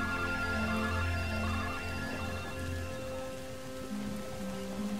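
Rain patters steadily in the LEGO Star Wars: The Force Awakens video game, a continuous wash of falling drops under sustained low musical tones, with no voices.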